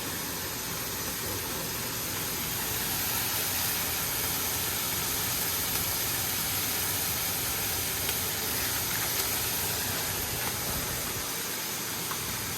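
Chili dusted with chili powder searing in a hot pan, giving off a steady, broad hiss that holds evenly for over twelve seconds with no talking.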